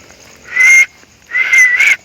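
Two bursts of high, steady human whistling tones in a Betawi cemetery, the second longer with a slight break, each standing alone with quiet gaps between.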